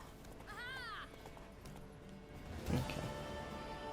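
A horse in The Witcher 3 game, with clip-clop hoofbeats and a brief whinny under in-game voices and background game sound.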